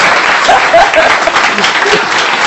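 Audience applause at a French-language sermon on marriage, a steady dense wash of clapping hands filling the room for a few seconds at full loudness.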